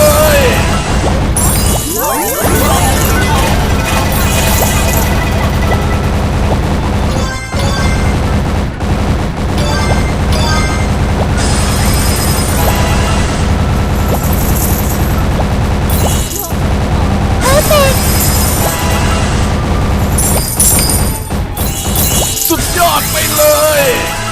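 Constant dense audio from a fish-shooting arcade game, with repeated blasts and crashing explosions over busy electronic music and effects, loud throughout, with voices occasionally audible.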